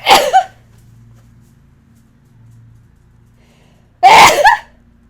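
Two loud, close sneezes, one right at the start and another about four seconds later, with near silence and a faint low hum between them.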